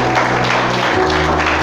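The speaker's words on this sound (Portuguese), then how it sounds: "Pode aplaudir, glorificar." A church congregation applauds in a steady, dense wash of clapping that fills the room, with a sustained hum and tones running underneath.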